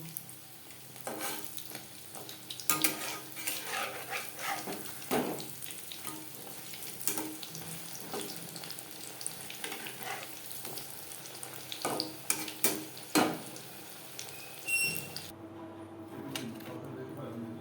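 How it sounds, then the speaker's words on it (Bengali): Pakoras deep-frying in hot oil, a steady crackling sizzle with scattered louder pops and bursts, close up and continuous, with occasional stirring sounds. "প্রত্যেক ব্যাচের পাকোড়া একইভাবে ভেজে নেব"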